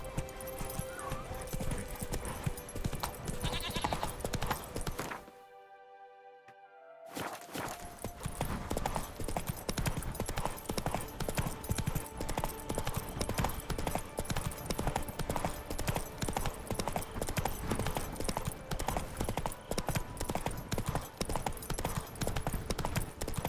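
Roach, Geralt's horse in The Witcher 3 (Next Gen), gallops in a steady, loud clip-clop rhythm that fills the scene, broken by a brief near-silent gap before the hoofbeats resume, with game music underneath.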